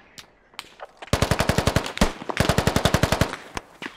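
Machine gun fire in the tactical shooter game Squad: a long, loud automatic burst of evenly spaced rapid shots, a brief pause, then a second sustained burst, with a few scattered single shots before it.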